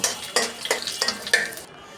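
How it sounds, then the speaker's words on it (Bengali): Whole and broken dried red chilies frying in oil in a wok, a close sizzle punctuated by four or five sharp stirring scrapes and clanks against the metal, ending abruptly. Nobody talks. "আমি কিছুটা শুকনো মরিচ আস্ত দিয়েছি আর কিছুটা শুকনো মরিচ আমি এখানে ভেঙে দিয়েছি এগুলো আমি সুন্দর করে ভেজে নেব"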